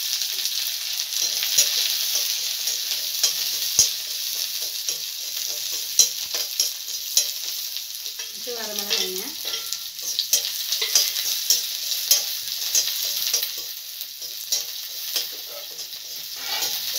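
Chopped small onions sizzle and crackle steadily in hot oil, with occasional stirring scrapes and a brief squeak midway; no talking.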